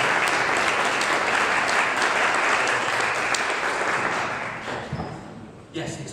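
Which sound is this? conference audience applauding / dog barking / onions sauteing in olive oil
conference audience applauding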